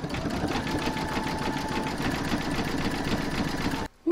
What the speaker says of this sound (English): you're going to stitch round number 7, and that's going to do the satin stitch around the heart